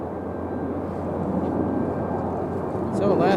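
A Southwest Airlines jet at Raleigh-Durham airport gives off a steady engine rumble that builds slightly toward the end, with a person talking over it.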